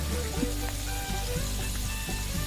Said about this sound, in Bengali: আলু কালো করে ভাজা হয়ে গেছে।